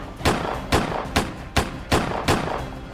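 Rapid gunshots in the game Autobahn Police Simulator, six sharp reports in a steady rhythm, each followed by a brief decay.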